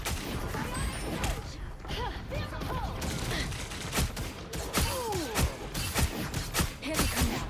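Gunfire in the Marvel Rivals video game comes in a string of sharp, fairly faint shots and impacts, mixed with whooshing game effects and character voices.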